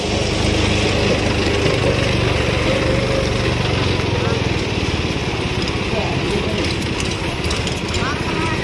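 Tractor engine running steadily and loudly up close, a continuous low rumble throughout, with a person talking over it.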